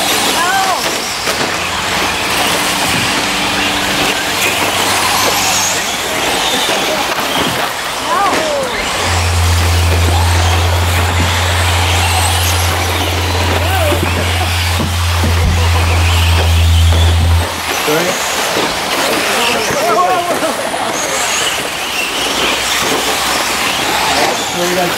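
RC cars race around a raceway track, their high buzzing motors whining steadily under continuous race commentary.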